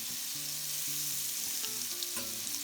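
Brined ribeye pork chops frying in butter with a clove of garlic, a loud steady sizzle and crackle filling the whole clip, with a faint tone sounding in the background.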